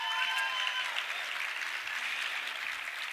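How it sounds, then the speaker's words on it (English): A large audience at an Economic Club of Indiana event breaks into sustained, dense applause, steady and fairly loud throughout with no pauses. "join me in a big round of applause to Karen"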